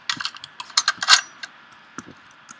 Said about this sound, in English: That's the sound of reloading.